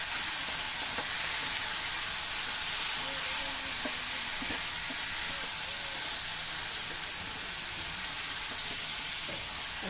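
Chicken fries and is stirred in a pan with Kashmiri red chili and garam masala powder for Kashmiri murg. A loud, continuous sizzling hiss fills the whole stretch, with faint scraping of the stirring beneath and no voices.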